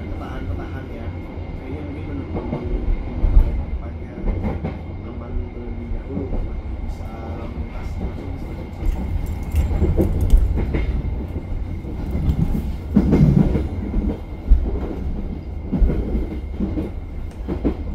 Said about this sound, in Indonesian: sekarang posisi saya ada di dalam kereta yang melintas langsung ya